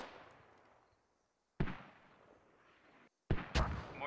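Mortar fire in the military shooter game Squad: three heavy booms, the first decaying into a long rumbling tail, then two sharp blasts in close succession near the end, with no talk.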